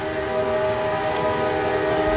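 An Amtrak passenger train sounds close and loud, its steady, sustained horn-like tone holding for about two seconds with no voices.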